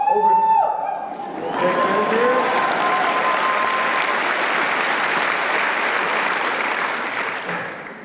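A live audience bursts into sustained applause and cheering after a speaking voice, a dense, loud wash of clapping that holds steady for several seconds before easing off.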